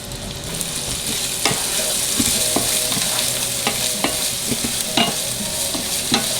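Chopped onions sweat and sizzle in melted fat in a pan over medium-low heat, a steady close crackle with scattered stirring clicks and scrapes, no talking.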